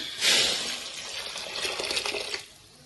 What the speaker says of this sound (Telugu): ఇప్పుడు చింతపండు పులుసు పోద్దామండి